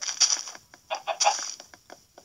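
Chickens in the Minecraft video game clucking in quick bursts, several short squawky calls in uneven clusters, close and clear, with no voices.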